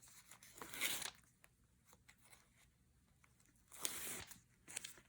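A strip of kinesiology tape is cut for a knee taping, giving two crisp, close tearing snips about three seconds apart with quiet handling rustle between.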